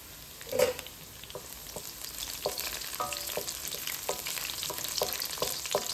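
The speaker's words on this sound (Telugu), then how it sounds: "పచ్చిమిర్చి ఇంకా కరివేపాకు కూడా వేసేసుకుని బాగా ఫ్రై చేసుకుందాం" Slit green chillies and curry leaves fry with chicken in a pan, a close, steady sizzle broken by a sharp tap early on and a series of light spatula knocks and stirring scrapes throughout.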